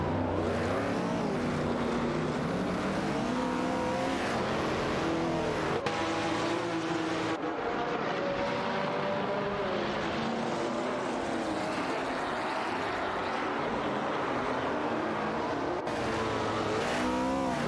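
Race cars, including Ford GT40s, in a racing video game: continuous loud engine roar with rising and falling revs as cars pass and shift gears, several engines overlapping throughout.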